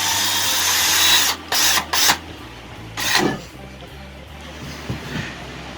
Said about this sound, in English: right up here, right about there, we countersink our holes.